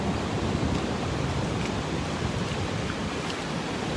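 Ocean waves wash onto a beach in a steady, broadband roar, with wind buffeting the microphone throughout and no clear individual breakers standing out.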